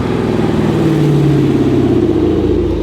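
Loud, close exhaust on a Dodge Charger fitted with a Valvetronic system, a deep throbbing rumble that holds steady with slight swells in pitch over a few seconds.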